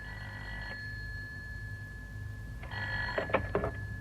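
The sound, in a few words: telephone ringing during a call in an audio play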